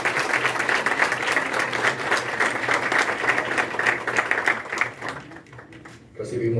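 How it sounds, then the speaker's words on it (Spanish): An audience at a law faculty event gives a strong round of applause, dense steady clapping from a large crowd that fades toward the end before a brief rise, with some voices underneath. "para quien pido un fuerte aplauso"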